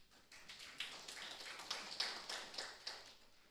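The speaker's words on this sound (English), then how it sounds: "If we don't mind, we can clap hands." Sparse, faint clapping from an audience at a university research symposium at Muhimbili, irregular claps rising and falling over a few seconds in a hall.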